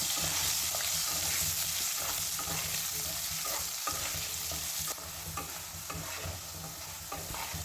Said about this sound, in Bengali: এটা 3 থেকে 4 মিনিট হাই ফ্লেমে ভাজলেই কিন্তু এরকম লাল লাল করে ভাজা হয়ে যাবে।